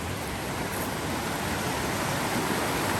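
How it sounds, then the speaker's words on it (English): A mountain creek rushes past at a backcountry trail crossing, a loud, steady broadband roar of flowing water with no change in level and no voices. "So we're arriving at the second creek crossing."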